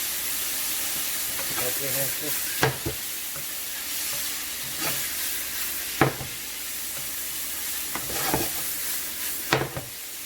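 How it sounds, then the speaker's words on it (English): Dried shrimp masala being stirred in a frying pan, a soft continuous sizzle broken by several sharp scrapes and clanks of the spoon against the pan, with a voice speaking briefly over it. "Mix it up for 2 seconds."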